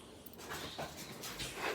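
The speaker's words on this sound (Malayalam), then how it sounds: "ഇത് എന്ത് കണ്ടിട്ടാണ് കുരയ്ക്കണേ?" An indoor pet dog barks at a remote control cover, making a few faint, short barks and whimpers that sound a little distant against a quiet room.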